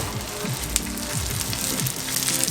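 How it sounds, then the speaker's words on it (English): Rice frying in avocado oil in a pan, a steady close crackling sizzle with small pops and faint scraping as the grains are spread out. "I'm going to add just a little bit of avocado oil to the bottom of my pan. And I'm going to carefully add in all of my rice."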